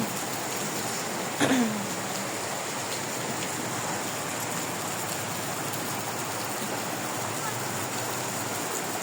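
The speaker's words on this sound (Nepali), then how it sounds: "खोला ठुलै आउँछ, भल पानी परिरहन्छ।" Heavy monsoon rain pours near a swollen river in a steady, dense roar that holds evenly throughout, with one brief sharper sound early on.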